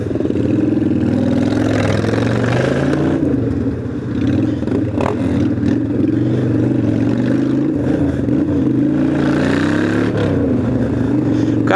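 A motorcycle engine, a Shadow 600, revs repeatedly with loud, sustained mid-range rumble and rising and falling pitch, close and continuous throughout.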